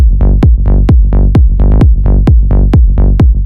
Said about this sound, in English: So now the kick and the bass sound like this